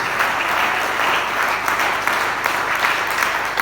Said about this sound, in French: Est-ce qu'on peut acclamer plus que ça?